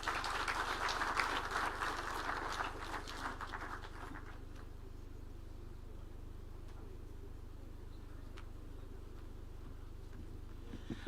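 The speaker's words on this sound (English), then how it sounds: "Another round of applause for CS." An audience at an outdoor event applauding, a dense burst of clapping in the first few seconds that thins out and fades into quiet background noise.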